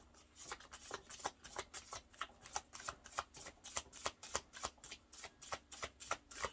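A deck of Russian Gypsy fortune telling cards is shuffled over and over, a quick run of crisp riffling flutters repeating in a steady rhythm, close and fairly quiet, with no talk.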